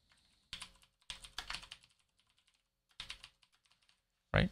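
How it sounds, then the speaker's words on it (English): Bursts of typing on a computer keyboard, close and crisp, arriving in short clustered runs separated by pauses, ending with a louder final keystroke. "you just type in your title and then your definition"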